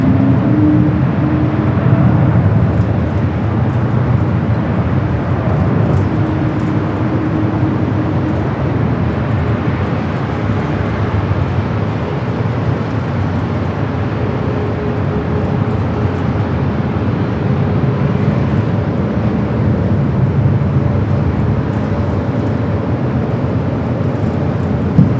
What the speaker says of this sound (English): United Dreamliner now rolling down to 25 right.